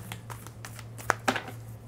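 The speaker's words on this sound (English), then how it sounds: "Let's just do one more shuffle here." A deck of tarot cards is riffled and shuffled by hand, a short soft flurry of card flicks with two crisp snaps close by.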